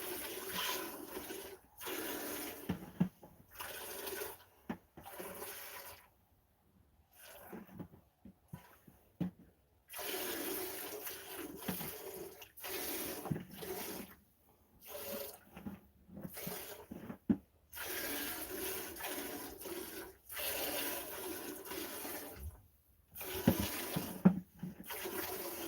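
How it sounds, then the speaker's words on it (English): Fresh milk poured through a filter on a homestead, a steady liquid splashing and trickling in repeated pours broken by short pauses, close and fairly loud with no talking. "we filter it twice so that nothing is in the milk when we go to drink it."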